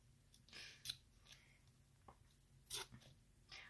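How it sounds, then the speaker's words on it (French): Quiet ripping and tearing sounds in short bursts, a few separate rips of paper at close range with silence between. "Je vais tout arracher cette fois."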